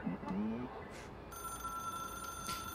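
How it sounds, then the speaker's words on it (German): A telephone in the video game Control rings with a steady electronic tone over a low background rumble, starting partway through and continuing to the end at moderate, fairly distant loudness. "Nur ein Telefon."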